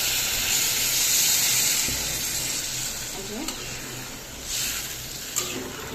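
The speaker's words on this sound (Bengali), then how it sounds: "এবার আমি ঝোল যে তৈরি করব তার জন্য জল দিয়ে দিচ্ছি" Hot water is poured into elephant foot yam curry frying in oil, a loud hissing sizzle that slowly settles, with faint stirring knocks and brief bursts of steam.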